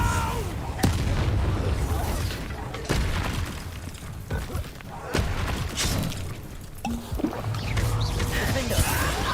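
Repeated fiery blasting spells in Hogwarts Legacy, loud booming bursts at irregular intervals over steady battle noise and music, with a voice talking in between.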